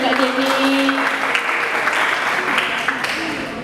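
An audience at a student talk show breaks into steady, dense applause that carries on for several seconds, with a voice briefly audible over the clapping early on.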